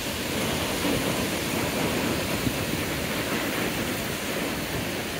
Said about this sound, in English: There's a big wave, it'll gush.